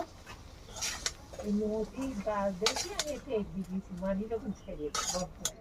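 Metal spoon clinks and scrapes against a pan as fried red amaranth greens are lifted out, with a few sharp clatters spread through the clip under steady talking.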